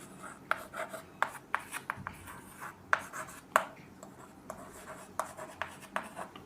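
Chalk or marker writing a chemical formula on a board: quiet, close scratchy strokes and taps in irregular bursts, with no talking.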